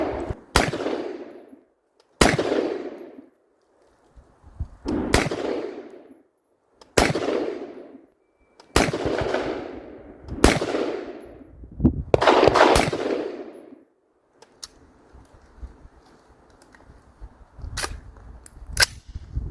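A PSA .223 Wylde AR rifle fires Winchester 5.56 ammunition outdoors, about nine loud, sharp shots spaced a second or two apart with short echoing tails, ending in quieter clatter and handling noise.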